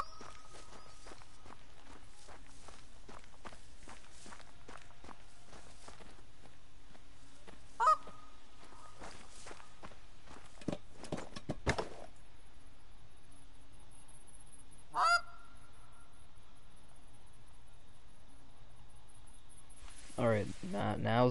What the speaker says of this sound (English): Now's the time the geese are gonna come in.